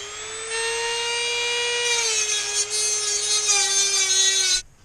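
A Dremel rotary tool whines steadily through carburetor gasket material on a C4 Corvette, a loud, high-pitched continuous cut with slight pitch dips, running for about four seconds before stopping abruptly.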